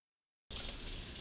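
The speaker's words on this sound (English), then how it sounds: "I'm just gonna pour some water through the top" Water is poured through a potted philodendron standing in a sink: after a half-second of silence, a steady, close, rushing splash of water begins and continues evenly to the end.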